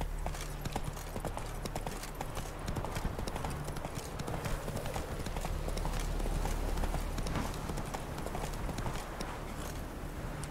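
The horse Roach from The Witcher 3 gallops in a fast, continuous clip-clop of hooves that stays loud and steady throughout, with a faint voice occasionally heard beneath.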